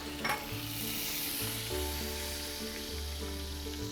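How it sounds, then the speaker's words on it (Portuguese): Browned chicken pieces sizzle steadily in a hot pan, a close, continuous frying hiss with a brief stir as a piece is turned golden side up, no voices over it. "Então meu franguinho agora, ó, tá bem douradinho, eu vou colocar esse ladinho pra cima."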